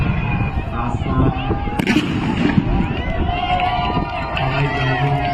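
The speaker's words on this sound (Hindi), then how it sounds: "आसमान में होता हुआ धमाके हो रहे लगातार" Continuous explosions go off over the Adarsh Stadium in Barmer, sounding as a dense wash of rumbling bursts with one sharper crack, mixed with crowd commotion and a person talking throughout.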